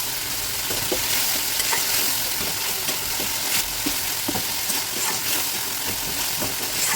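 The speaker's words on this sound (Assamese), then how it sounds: "এতিয়া মছলাখিনিও ভাজা যাব আৰু বিলাহীখিনিও ধুনীয়াকৈ সিজি গলি যাব" Spices and tomatoes fry in a wok for an Assamese fish curry with kohlrabi, giving a steady, close, loud sizzle with repeated scraping stirs throughout.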